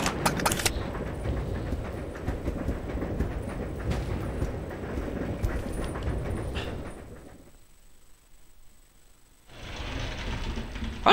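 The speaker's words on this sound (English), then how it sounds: "if the train is going, just where the hell is the train going to?" A moving train in Resident Evil Zero, a continuous rumbling clatter for most of the stretch before it drops away into near silence and then briefly returns.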